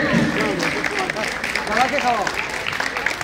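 Steady applause from a crowd at a district council foundation-day ceremony rolls on continuously at moderate loudness, with a voice talking over the clapping.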